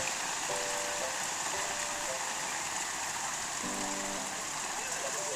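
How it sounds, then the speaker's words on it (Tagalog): A constant hiss of heavy rainfall pours down throughout, steady and enveloping, with faint tonal sounds briefly rising over it. "Inabot na po kami ng malakas na ulan dito."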